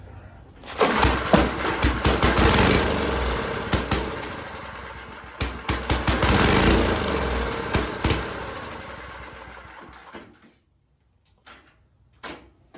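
A small engine under repair catches and runs loudly up close, revving unevenly with surges for about ten seconds before cutting out, followed by a few knocks.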